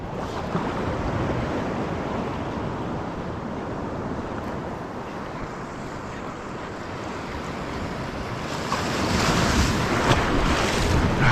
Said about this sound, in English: They're a pain in the ass, these waves though.